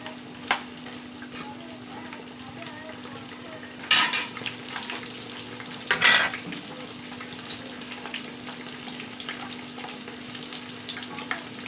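Banana flower croquettes (mochar chop) frying in oil, a low, steady sizzle with a faint hum beneath and two louder bursts of crackle and stirring clatter.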